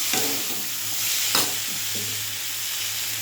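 Whole green chillies frying in a pan, a steady close sizzle broken by a few sharp stirring scrapes.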